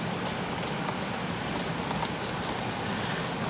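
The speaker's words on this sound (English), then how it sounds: "a rainy, thundery morning." Heavy rain pours steadily during a thunderstorm on a wet morning, a dense, even hiss of drops close by with faint patters on surfaces and no thunder or voices.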